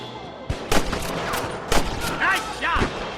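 Gunfire in the Red Dead Redemption video game, several sharp loud shots spaced irregularly over a few seconds, with brief game sounds between them.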